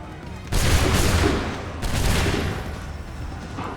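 Musket volley fire in Assassin's Creed 3: two loud, rolling blasts of many guns going off together, each thundering roar fading slowly before the next.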